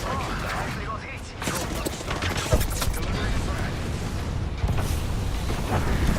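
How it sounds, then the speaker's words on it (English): Airstrike explosions and gunfire in a multiplayer shooter game: dense rumbling blasts and rattling bursts roll continuously, loud and close, with no pause. "There's an airstrike inbound."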